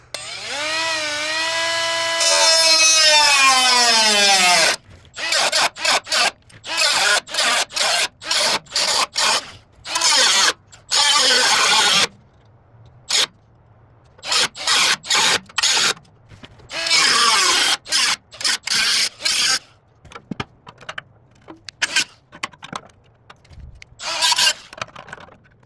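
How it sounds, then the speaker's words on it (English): Die grinder with a cutoff wheel slicing open a Porsche Boxster exhaust: a loud, close whine that spins up with a rising pitch, then many short, sharp cutting bursts separated by brief pauses. "just gonna take my die grinder and cutoff wheel and just cut it open"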